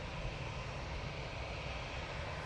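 Ryanair airliner rolling at Manchester Airport, a steady broadband engine roar held at a constant moderate level throughout, with no talk.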